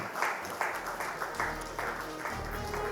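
Steady, faint applause from an audience at an awards ceremony, a dense patter of clapping hands that carries on evenly throughout.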